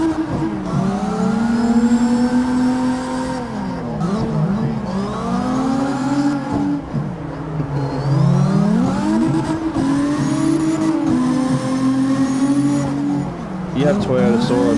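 A Toyota Soarer engine in the drift game CarX Drift revs and shifts continuously, pitch rising and falling through gear changes, with a voice talking over it.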